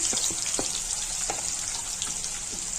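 Finely chopped onion frying in hot oil with mustard seeds and a little cumin, a steady hiss with a few soft pops and crackles near the start, fairly quiet and without voices.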